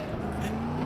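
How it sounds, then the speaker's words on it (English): Race car engine from outside view in the Automobilista 2 sim racing game, a steady droning roar with a faint rising tone, short and continuous. "I'm in a silly view of the car so we can listen to the external engine noise"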